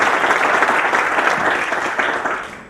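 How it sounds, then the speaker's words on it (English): An audience at a real estate gathering claps in a dense, steady burst that holds for about two seconds and then fades toward the end, with no voice over it. "Applaud yourself because you deserve it"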